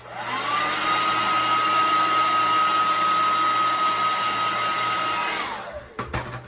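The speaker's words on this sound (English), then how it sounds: "So I'm gonna blow dry this just for a few seconds." Hot air roars steadily from a hair dryer aimed at an eyelash curler, a loud constant whine with a high tone that holds for about five seconds before the motor winds down and clicks off.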